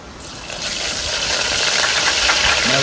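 Battered pickles dropping into a deep fryer set off a sudden loud surge of bubbling hiss that quickly settles into a steady, close, roaring sizzle.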